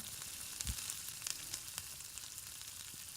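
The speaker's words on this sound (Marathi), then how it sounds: "हे बघा, खूप छान पाणी उकळलेलं आहे." A steady, bubbling hiss with faint pops fills the moment, water at a rolling boil in a wok with salt added, with one brief low knock early on.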